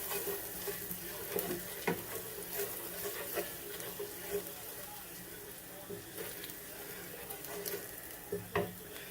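Garlic shrimp scampi sizzles steadily in a hot pan, a continuous close frying hiss with scattered small pops and utensil taps, while a voice talks over it at times.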